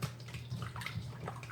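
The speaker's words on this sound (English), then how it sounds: "I like to add a little bit of water when I'm seasoning my meat." Water pours steadily into a pot of seasoned meat in a home kitchen, a soft continuous splashing rush, close and fairly quiet, with no talking.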